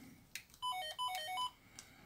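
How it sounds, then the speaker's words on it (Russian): A short electronic power-on melody from a retro mobile phone plays a quick run of bright beeping notes, fairly quiet, with a few faint clicks before and after. "мелодия при включении."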